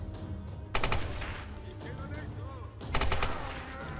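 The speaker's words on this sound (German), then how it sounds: "Ich schieße dir gerne in die Hand, hab ich kein Problem mit." Two quick bursts of gunfire in the video game Tomb Raider, sharp rattling volleys about two seconds apart, with someone talking between them.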